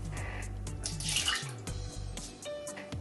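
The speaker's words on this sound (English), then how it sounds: "it says to pour that into a sanitized pot" Liquid poured into a sanitized pot for home beer brewing, a steady close splashing and gurgling stream with shifting pitch as the pot fills, continuous throughout.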